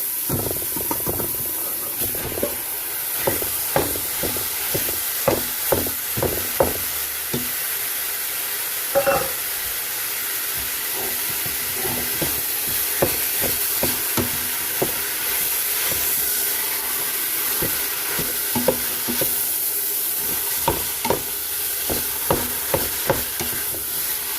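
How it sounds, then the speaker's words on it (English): Ground beef browns with onions and garlic in a hot pan, a constant sizzle and hiss broken by frequent scraping stirs of a utensil, close and fairly loud, with no talking. "I'm just going to brown the beef."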